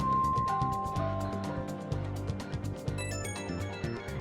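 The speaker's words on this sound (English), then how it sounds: "And my phone's ringing again." A phone rings in Persona 5 Royal, a bright repeating electronic ringtone with pulsing tones over soft background music, fairly close and with no talking.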